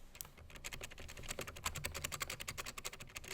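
Rapid, steady keystrokes on a Razer gaming keyboard whose springs are said to ping. The clicks form a quick, even rhythm, heard close but quietly, with no talking.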